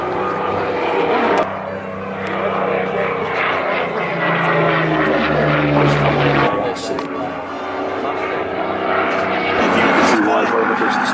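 A German Messerschmitt warbird flies an airshow display, its piston engine droning and swelling as it passes, heard under a commentator talking over a public address.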